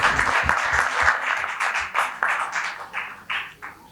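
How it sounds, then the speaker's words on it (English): Audience applause rings out as guests, including a managing director of MapMy India, come onto the stage at a Make in India conversation session; steady clapping with sharp individual claps, fairly close and loud, tapering slightly near the end. "Give them a round of applause."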